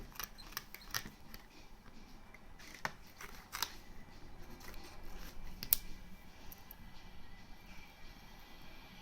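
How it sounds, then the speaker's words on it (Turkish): Scissors snip at paper or craft material while a relief orchid is being made by hand, a series of faint, sharp, irregular cuts and rustles at close range in an otherwise quiet room. "Bakın makasın ucunu kullanıyorum yine."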